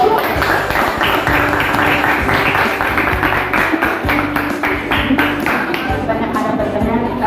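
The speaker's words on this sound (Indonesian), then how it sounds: "tepuk tangan dulu untuk kelompok" A group of people applauding in a classroom or meeting, with sharp rhythmic clapping and hand taps under some overlapping talk.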